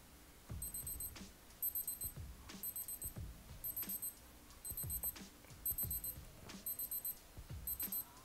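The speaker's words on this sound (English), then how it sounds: "Let's switch off the auto repeat and see how it will sounds like." A Casio G-Shock Frogman GW-200 diving watch sounds its countdown timer alarm: close, thin electronic beeps in quick repeated bursts, each cluster separated by a short pause, over faint handling noise, with no talking.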